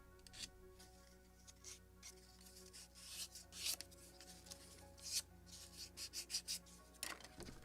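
Scotch-Brite pad polishing a small wooden deck part for a Model Shipways kit of the 1776 gunboat Philadelphia, heard as quiet, close scrubbing strokes in short bursts over a steady low hum.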